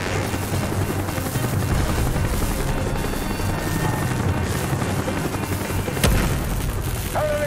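A helicopter drones loudly throughout a Call of Duty: Black Ops battle, its rotor roar constant and close, mixed with scattered explosions and distant gunfire, and a sharp crack near the end.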